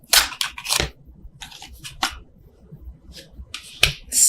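Tarot cards are shuffled overhand, giving a close series of sharp, irregular flicks and slaps with short pauses between bursts.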